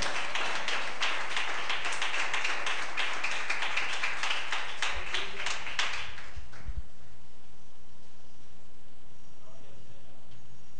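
A church congregation claps enthusiastically for several seconds during a Spanish-language sermon, a dense burst of many hands that tapers off and leaves near silence.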